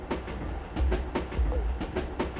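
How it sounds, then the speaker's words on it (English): A small train runs on the underground railway inside Postojna cave in Slovenia, giving a steady rolling rumble with repeated rhythmic clacks of wheels over rail joints, close and continuous. "You board a small train that whisks you miles into the earth"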